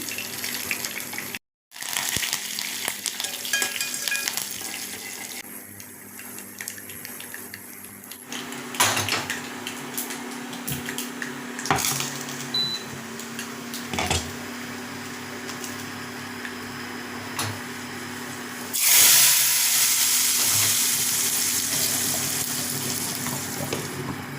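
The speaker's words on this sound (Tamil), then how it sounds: "தாளிக்கிறதுக்கு நான் கடலெண்ணெய் வச்சு தான் தாளிக்க போகிறேன்" Tempering spices and a dried red chili sizzle and crackle steadily in hot groundnut oil as they are stirred in a pan, with clinks of utensils and a louder burst of frying near the end.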